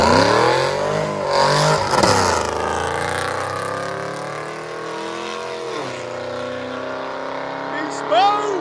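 A 2010 Camaro SS with a 6.2L LS V8, BBK full-tube headers and Borla ATAK exhausts roars loudly nearby. The engine revs up hard, drops back to a deep rumble and flares again near the end.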